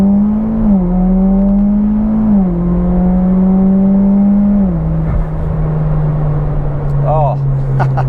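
Mitsubishi Evo X MR with built SST gearbox and 10-plate clutches pulling hard in second gear, a loud droning engine note rising in pitch with quick shift dips, heard from inside the car under occasional voice.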